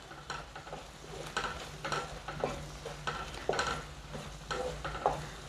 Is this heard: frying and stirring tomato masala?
yes